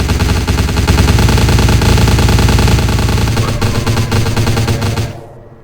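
Rapid gunfire in Vampire The Masquerade Bloodlines, shots fired into the air as a dense, loud burst that holds steady for about five seconds before abruptly cutting off.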